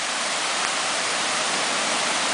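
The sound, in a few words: flooded creek rushing water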